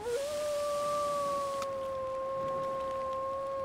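A wolf howls in the survival video game The Long Dark, a single long wavering howl that rises quickly and then holds steady and clear for several seconds over faint wind-like background noise.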